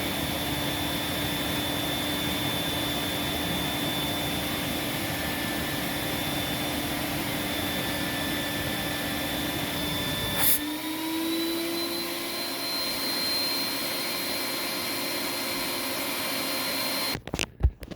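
A Thermax AF2 vacuum runs on a long hose with a loud, steady whining roar. Partway through, its tone drops and shifts, and it cuts off near the end with a few clunks.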